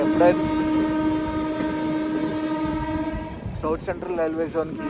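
A Janshatabdi Express running from Chennai Central toward Vijayawada sounds a long, loud, steady horn over the rumble of the rolling coaches, then the horn stops and voices are heard over the train noise.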